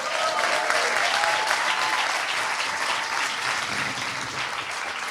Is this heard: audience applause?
yes